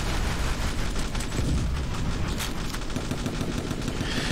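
Rockets firing during a toy army battle in the Attack On Toys video game, a dense, continuous roar of overlapping blasts and crackling fire, loud and sustained throughout with no talking.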